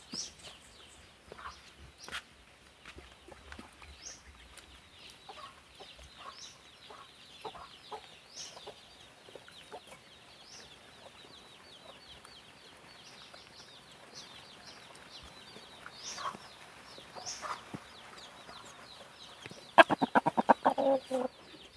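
Pet chickens cluck softly and intermittently at a moderate distance through a quiet yard, with a brief louder burst of rapid clattering noise near the end.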